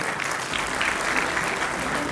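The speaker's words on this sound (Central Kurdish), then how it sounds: "چەپڵەیەک بۆ دەرچوانی کۆلێژی زانست و تەکنەلۆژیا" At a university graduation ceremony, a large crowd applauds the College of Science and Technology graduates. The clapping is steady and dense, and loud throughout.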